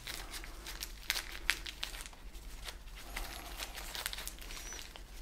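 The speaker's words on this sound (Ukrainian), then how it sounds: "беремо ще один дріт і також туго обмотуємо для того, щоб волога у пакеті залишалася" Wire wrapped tightly around a plastic bag on a ficus benjamina branch during air layering makes close, faint crinkling and rustling with scattered sharper crackles, steady throughout with no talking.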